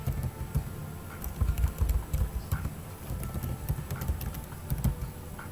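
Fingers type on a computer keyboard at close range, with bursts of soft rapid key clicks and thumps across several seconds and no speech.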